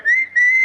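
A single person whistles loudly and up close to hail a taxi: two sustained, clear tones separated by a short break, the second held slightly higher, with no talk.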